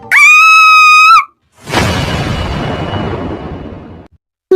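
A woman lets out a single loud, sustained, piercing scream, followed after a short gap by a booming, rumbling crash that slowly fades, like a horror sound effect.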